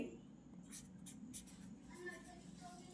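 Pen or pencil writing by hand while working a maths problem, a few faint scratchy strokes in quick succession under a quiet room hum, with a voice speaking at a low level.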